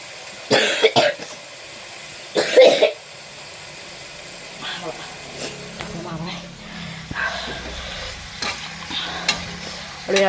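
A pan of pork adobo (adobong baboy) being stirred, with scraping spoon strokes over a low sizzle, punctuated by a couple of loud nearby bursts that sound like coughs, and quieter scattered clatter afterward.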